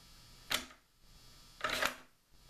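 The bolt of a long-range muzzleloading rifle is worked past a newly mounted sniper scope, two sharp metallic clacks about a second apart, close and clear in a quiet room.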